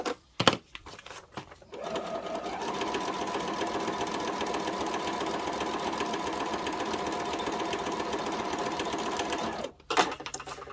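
A sewing machine stitches fabric pinned over paper for a Halloween wall hanging, a steady, fast mechanical whirr running for about eight seconds after a few handling clicks, then stopping abruptly, with no talking.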